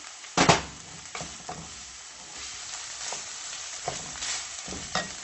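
Minced meat with peppers, spices and garlic powder stirred in a frying pan: a loud scraping clatter opens, then softer spatula strokes repeat over a quiet, steady sizzle, close up with no speech.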